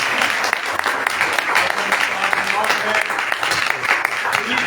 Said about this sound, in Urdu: اب خدا کے خادم پاسٹر فرانسس کو خدا کے کلام کے ساتھ زوردار تالیوں کے ساتھ ویلکم کرتے